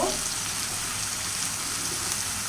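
Small sea fish called molla fish frying in a pan, a steady dense sizzle and crackle running evenly throughout, close and moderately loud with no voices.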